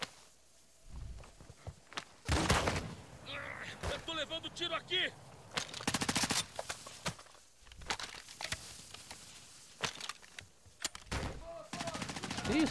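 Bursts of rapid gunfire in the video game DMZ Warzone crack out repeatedly, some close and loud, some quieter, with brief pauses between volleys and a voice talking in between.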